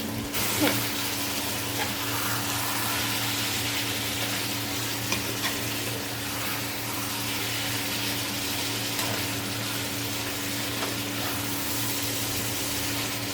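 Desi chicken and potatoes being fried down for kosha in a village-style pan, a steady, even sizzle lasting throughout with faint stirring and a low background hum, close and continuous.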